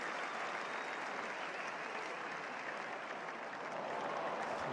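Sustained applause from a tennis crowd, a steady dense roar of clapping at fairly even loudness throughout, with no voices standing out.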